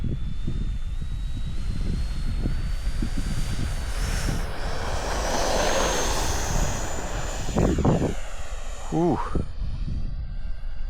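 An Eflite F-16 Thunderbirds V2 70mm electric ducted-fan RC jet on its maiden flight from a new runway makes a loud rising whine as it passes and fades. A person exclaims briefly near the end.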